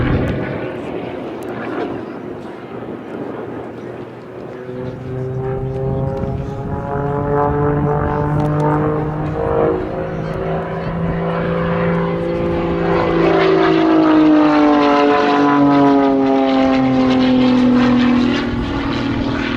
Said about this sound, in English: A 3-point roll there to show you the upper surface of the aircraft briefly.